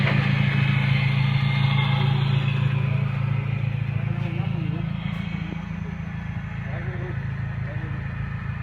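A Honda Civic fitted with a Hiest body kit idles steadily, its low, even engine hum holding throughout under a broad wash of background noise, with people talking nearby.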